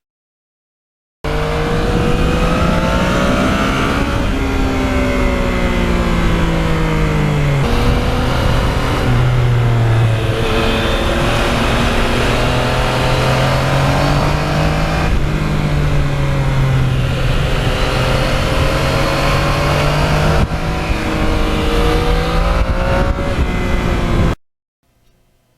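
A 2020 Yamaha MT-09 motorcycle ridden on winding back roads gives a loud, close engine note that climbs and drops steadily as the rider shifts through the gears for over twenty seconds, with no voices.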